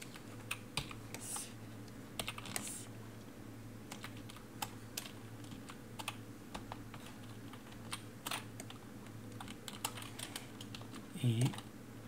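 Fast, uneven typing on a computer keyboard runs throughout, a steady stream of close clicks over a low background hum, with a brief louder burst near the end.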